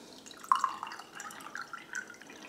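Leftover water poured into a glass of salt while preparing pizza dough, a faint, quiet trickle with small splashes and drips over a couple of seconds, no talking.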